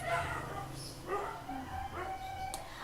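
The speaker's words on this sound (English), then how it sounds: "Oh, the dogs!" Dogs bark in short, scattered yips and woofs at a middle distance, a few separate outbursts over a steady low background hum, with no one speaking.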